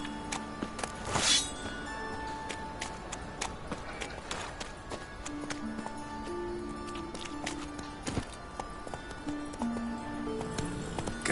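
Roach, a horse in The Witcher 3, gallops with rhythmic hoof clip-clops over game ambience, moderately close and continuous, with brief sounds of a rider and a short voice now and then.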